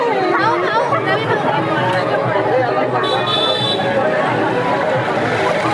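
Dense, loud babble of many overlapping voices from a crowd at a food festival with women's snack stalls, continuous and close, with a brief beeping tone partway through.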